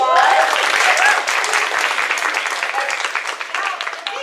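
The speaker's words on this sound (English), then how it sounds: "So y'all give them a big round of applause." Crowd at a fall kick-off meeting in Louisiana breaks into steady applause, loud and close, with a few faint voices and whoops mixed in as it slowly fades.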